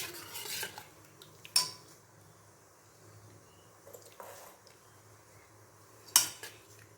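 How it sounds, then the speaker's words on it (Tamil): Veg biryani being mixed in a pot with a spoon: a few sharp metal clinks of spoon against the pot stand out over a quiet scraping background, with gaps of near silence between them. "ஓகே, இதை அப்படியே மிக்ஸ் பண்ணி வச்சாச்சு"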